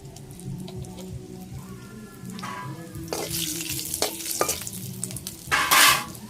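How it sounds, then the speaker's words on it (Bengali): Dry red chillies and whole garam masala hitting hot mustard oil in a pan, a low background bubbling that bursts into loud, crackling sizzling and spattering, with stirring scrapes and a big flare of sizzle near the end. "সর্ষের তেল দিয়ে দেবো, তেলের উপরে 2টো শুকনো লঙ্কা আর গোটা গরম মশলা,"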